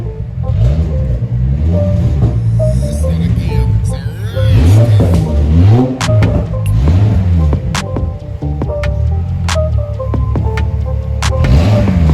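Volkswagen Corrado 2.9 VR6, an original unmodified car, with its engine revving loudly and continuously up and down, rising and falling pitch sweeps over a deep throbbing rumble with no talk.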